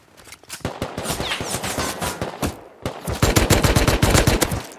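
Rapid gunfire in the survival game Rust: close, loud bursts of sharp shots fire in quick succession, break off briefly, then resume even louder and faster in a sustained volley.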